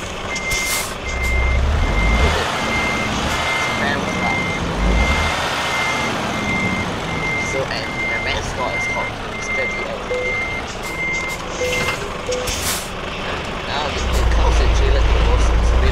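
A Scania truck pulling a trailer reverses with a steady, repeating backup beeper sounding throughout, over engine rumble and a hiss of air brakes, while someone talks alongside.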